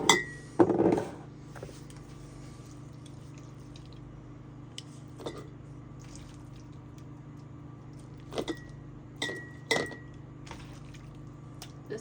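Glass jars of home-canned spicy pork clink and knock as they are handled and moved, a few sharp isolated clinks over a quiet room hum with no talk.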